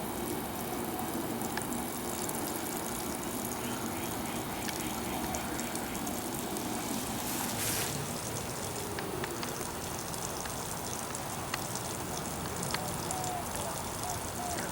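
Water pours steadily to give bugs a drink on a hot day, a soft continuous gushing trickle heard close, with faint background noise and occasional small clicks.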